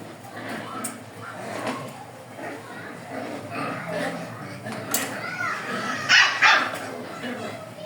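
Dogs bark sharply in a few bursts, with a louder cluster near the end, over steady background noise and some talking.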